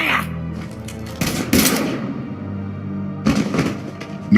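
Gunfire in the video game Mass Effect 3 comes in short clustered bursts, a pair of sharp shots, a pause, then another cluster near the end, loud and close over a low background hum.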